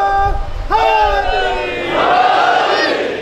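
A crowd at a religious gathering in Chak 107 Janobi, Sargodha, shouts a slogan together. The loud, sustained chorus of voices is heard up close, and a single voice leads into it at the start.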